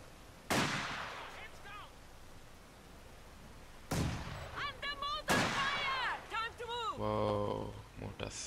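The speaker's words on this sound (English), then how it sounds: "So yeah, they are mortars." Mortar rounds in the World War II strategy game Company of Heroes 2 boom in three heavy, sharp blasts with rumbling tails, loud and near, while voices speak between and over the impacts.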